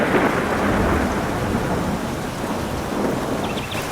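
Heavy rain pours down steadily with a deep rumble of thunder rolling underneath, loud and close, with no voices.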